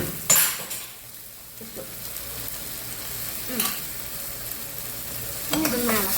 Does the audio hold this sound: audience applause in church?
no